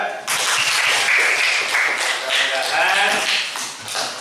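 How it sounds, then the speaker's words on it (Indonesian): A morning class or gathering gives Mas Reza a burst of applause that starts abruptly and runs dense and steady, with voices mixed faintly into the clapping. "Tepuk tangan untuk Mas Reza"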